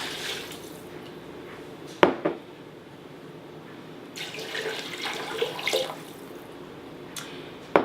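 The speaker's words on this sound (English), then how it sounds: "I'm going to throw in my water." Water poured into a pan to start broth for a turkey lentil stew, a close splashing trickle with a few sharp clanks against the metal, fairly loud and with no speech.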